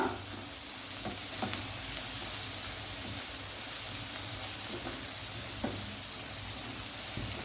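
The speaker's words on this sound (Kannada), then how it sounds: "ಇದನ್ನೆಲ್ಲ ಇದಕ್ಕೀಗ ಹಾಕ್ತೇನೆ. ಇದನ್ನು ಫ್ರೈ ಮಾಡುವ." Peppercorns and spices fry in a pan for a sprout moong dal kurma, a steady close sizzle with occasional clicks and stirring taps throughout, no talking.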